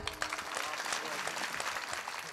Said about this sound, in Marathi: एकदा टाळकरांसाठी जोरदार टाळी